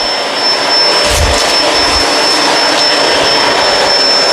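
Kenmore Crossover Ultra vacuum cleaner running on hard floors, a loud steady whining roar throughout with brief low thumps as it moves.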